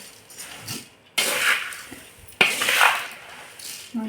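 A metal spoon scrapes and stirs hot tempering inside a pot in two distinct bursts, with a faint sizzle and quiet pauses between.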